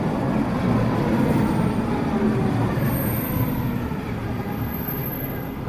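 A subway train rumbles steadily along the rails at a constant, fairly loud level, with a low continuous roar and faint high whine throughout and no talking.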